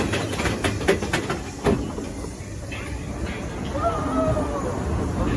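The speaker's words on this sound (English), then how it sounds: "we're on the Dwarfs mine train" Rumbling ride ambience of the Seven Dwarfs Mine Train roller coaster at Disney at night, with a steady low mechanical drone, a few clanks and bumps early on, and faint crowd chatter in the background.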